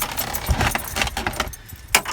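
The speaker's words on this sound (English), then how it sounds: "Just throw the keys out there." Car keys for a 2003 Chevy Silverado jangle as they are tossed, a loud close metallic rattle that spreads across the moment with a sharp clink near the end.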